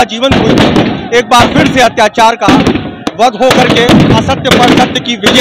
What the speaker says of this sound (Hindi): जिसमें लगातार आतिशबाजी की आवाजें गूंज रही हैं